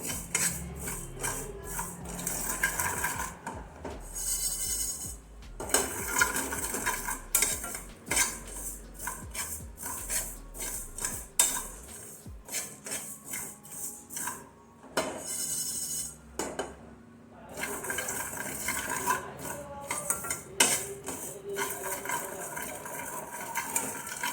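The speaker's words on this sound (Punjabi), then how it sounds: "ਲੋ ਫਲੇਮ ਤੇ ਆਪਾਂ ਇਹਨਾਂ ਨੂੰ ਮਸਾਲੇ ਨੂੰ ਭੁੰਨਾਂਗੇ" Pickle spices for a homemade green chili pickle are stirred and roasted in a pan over a low flame, with a steady metallic scraping and clatter of the utensil against the pan, close and continuous, without talk.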